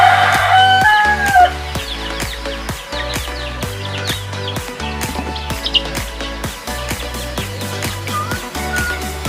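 Pet chickens cluck and crow in their coop, steady calls over a continuous backdrop of music throughout.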